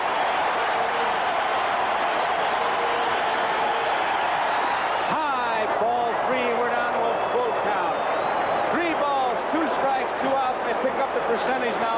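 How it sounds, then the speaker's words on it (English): Packed stadium crowd at a 1978 World Series game, Dodgers at Yankees, roaring in a steady loud wash that swells after a pitch, with a broadcaster talking over it. "Listen to the crowd."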